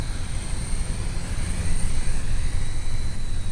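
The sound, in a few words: Radian Pro remote-controlled airplane flying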